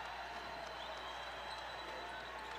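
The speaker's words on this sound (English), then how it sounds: "And here comes the crowd." A home arena crowd roars at a college basketball game, SIU Salukis hosting Loyola, as a steady wash of cheering and applause, heard faintly and evenly at a distance with no clear voice on top.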